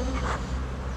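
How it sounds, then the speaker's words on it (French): Honey bees buzz at an open beehive during a honey harvest at an apiary, a close, continuous droning hum filling a single brief second. "il y a des abeilles hein, et du miel, d'accord?"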